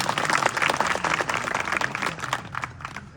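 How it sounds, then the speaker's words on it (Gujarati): A crowd at a Junagadh gathering breaks into loud, sustained applause for Raghuram Bapu, a dense close wash of many hands clapping continuously, easing off a little near the end. "આજનું કાર્યક્રમની અંદર ખૂબ સરસ મજાની મસ્ત જે સંચાલન કર્યા છે એવા રઘુરામ બાપુ માટે જોરદાર તાળીઓ વગાડો"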